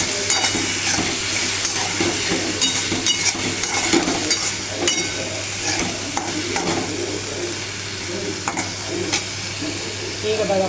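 Drumstick vegetable sautéing with salt in a pan, a dense continuous sizzle with repeated scraping stirs from a spatula close up throughout.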